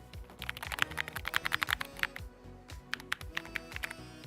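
Typing on a Corsair MAKR 75 mechanical keyboard, a quick burst of crisp clicky keystrokes in uneven clusters, close and fairly quiet, with a brief pause midway and no talking.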